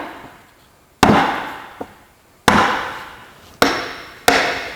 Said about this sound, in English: I'm going to use a small hammer